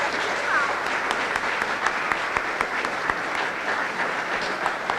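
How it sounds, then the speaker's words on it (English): An audience at a school Grandparents Day program claps steadily, a dense patter of many hands at moderate volume. "And I'd like you to give a nice round of applause to Arlington Akers"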